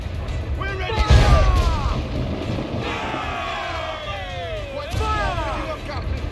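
A ship's cannon fires in the video game Assassin's Creed 4 Black Flag, giving one deep, heavy boom amid shouting crew voices and the rumble of battle.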